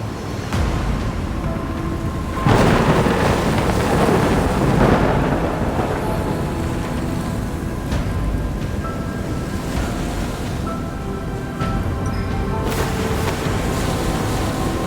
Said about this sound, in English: Death, when the storm surges from the deep sea.